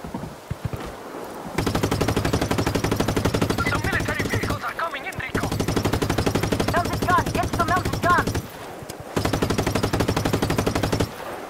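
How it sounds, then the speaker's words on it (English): Mounted machine gun in Just Cause 3 fires long, loud sustained bursts of rapid rounds, broken by short pauses, with explosions and game effects mixed in. "Mounted gun."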